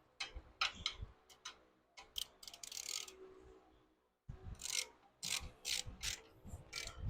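Bolts on the rear suspension bushings of a 1967 Pontiac Firebird being snugged down with a ratchet: quick clicking pawl bursts and metallic ticks in short irregular runs, close by but fairly quiet, with a brief pause midway.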